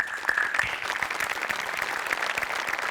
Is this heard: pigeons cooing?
no